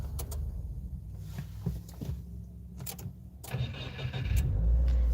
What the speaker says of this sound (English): It's just the starter. The starter just sounds weird.